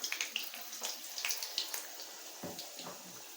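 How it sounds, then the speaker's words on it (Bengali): A pinch of fenugreek and three dried red chilies hit hot oil for a tempering, giving close, crackly bursts of sizzling and popping that come in quick irregular spurts, with no talk. "এইবারে আমি এর মধ্যে ফোড়নটা দিয়ে দেব। ফোড়নের জন্য আমি প্রথমে দিচ্ছি 1 চিমটে মেথি আর 3টে শুকনো লঙ্কা।"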